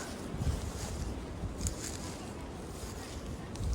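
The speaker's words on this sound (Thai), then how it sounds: "ได้ยินเสียงลมบ่จ้ะ" Wind blowing steadily outdoors among flowers while gathering wild vegetables, a constant broadband rush with low buffeting gusts against the microphone throughout, no voices.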